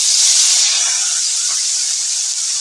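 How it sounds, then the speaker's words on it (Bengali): Small fish rubbed with salt and turmeric sizzling in a pan of hot oil, a loud, constant close-up hiss that fades slightly toward the end. "মাছটা আমি এবার ভেজে নেব।"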